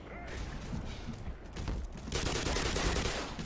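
A grenade explodes in the Half-Life video game, a loud burst of crackling game noise with heavy low rumble that swells partway through and holds to the end.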